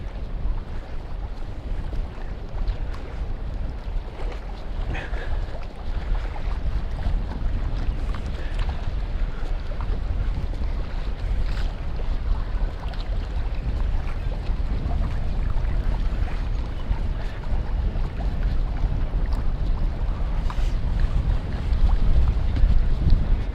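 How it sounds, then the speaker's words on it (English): Wind gusting across an open waterfront in Mandurah, a steady low rumble buffeting the microphone throughout, swelling slightly toward the end with no voices. "So the wind is still blowing because we're quite open"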